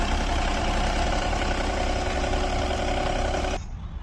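A vehicle engine idles smoothly and evenly, a steady close hum with a faint tonal whine. It continues alone for a few seconds before the sound abruptly thins and softens near the end.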